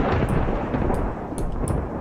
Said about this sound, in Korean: 바다에서도 천둥이 지나 원래?